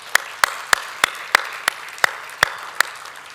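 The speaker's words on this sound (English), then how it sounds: "Congratulations to Lithuania. Big applause." Audience clapping for Lithuania being named winner at a Baltic investment and innovation event: about ten sharp, evenly spaced claps in a slow, steady rhythm, close and distinct, with no talk over them.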